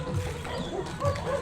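Several dogs bark outdoors in the Philippines, a few short yaps and barks at moderate distance mixed in with someone talking nearby.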